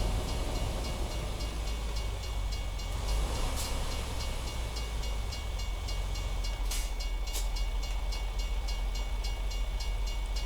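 A Union Pacific train passing a railroad crossing in American Truck Simulator, a continuous rumbling roll with rhythmic clatter and occasional sharp accents, steady and alone.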